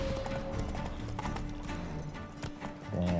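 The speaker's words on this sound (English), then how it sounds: "You'll be fine, Roach. Giddy up" Horse hooves trot in The Witcher video game, making a quick, steady clip-clop close by for a few seconds, with a louder burst of sound at the end.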